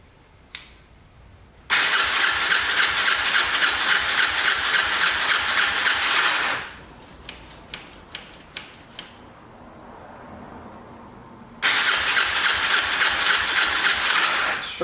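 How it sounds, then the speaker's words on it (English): A 2004 Yamaha TTR 250 dirt bike with carburetor trouble, its engine roaring in loud revving bursts, then dropping to a rough, uneven idle with sharp pops before revving hard again, close up and no talk. "It still don't want to idle on its own."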